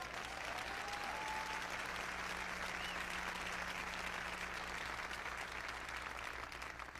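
Sustained applause from an audience of students fills the space, dense and steady clapping that holds at an even level throughout.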